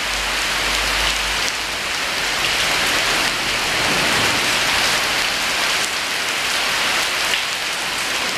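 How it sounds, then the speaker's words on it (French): Heavy rain pours down during Hurricane Irma, a loud, dense and unbroken roar of water that holds steady throughout with no voices. "il pleut à fond"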